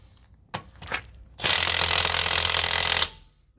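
A jack raises the wheel of a 2018 Utility 3000R semi trailer: two short mechanical clicks, then a sustained close ratcheting whir lasting over a second before it stops.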